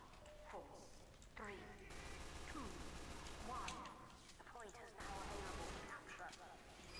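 Rapid gunfire from a mini sentry gun in the video game Team Fortress 2, repeated bursts mixed with other combat noise and someone talking over it.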